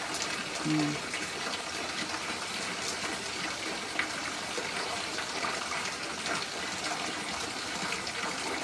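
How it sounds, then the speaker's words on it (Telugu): Water from a natural spring in a cave garden in Meghalaya gushes and flows continuously nearby, a steady rushing wash with a brief voice at the start. "లోపల నుంచి వస్తున్నాయి చూడు వాటరు"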